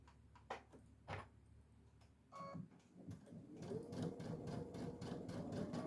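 A home sewing machine chain piecing quilting fabric for placemats, starting with a few taps and clicks, then running in a steady whirring stitch that builds and holds close up.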